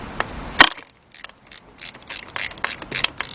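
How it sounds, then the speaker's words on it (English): Ratchet wrench clicks in short bursts while tightening starter bolts on a 2006 Jeep Grand Cherokee 3.7 2WD, with a sharp clank early, a brief pause, then irregular close-up ratcheting strokes. "let's tighten up those bolts"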